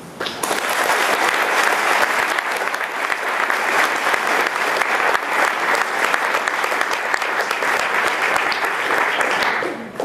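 An audience breaks into loud, sustained applause to welcome a speaker at a physics plenary session, dense clapping filling the hall for about ten seconds before tapering off at the end.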